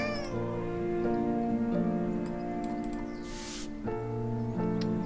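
A cat meows in the video game Behind the Frame, a short plaintive call over soft, steady background music with a faint ticking clock.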